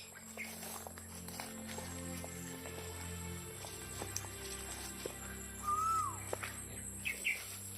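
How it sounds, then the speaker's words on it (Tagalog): A black crow-like bird gives a short call outdoors, a brief caw heard faintly at a distance over steady background hum, followed by a couple more quiet call notes. "Ang itim pala yung ibon na yan. Parang uwak din."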